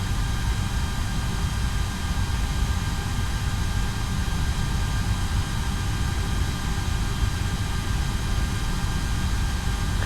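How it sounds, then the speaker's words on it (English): Simulated number 2 engine of a JARDesign A330-200 airliner spooling up in a flight simulator, a steady loud broadband jet roar with faint high whines, constant throughout with no talk. "we're going to start the number 2 engine"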